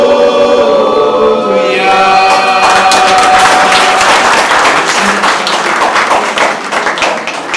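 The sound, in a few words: audience applause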